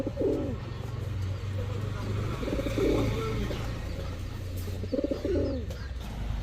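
High-flyer pigeons coo in short repeated bursts close by, with faint background noise between the calls.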